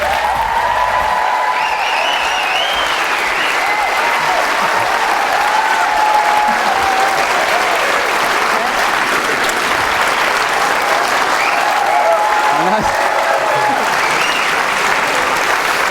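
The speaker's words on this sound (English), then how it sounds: "huge round of applause for Ewan McGregor" A large audience applauds Ewan McGregor at an in-person event at the Edinburgh International Film Festival, a dense, steady wash of clapping lasting throughout with scattered cheers and whoops rising above it.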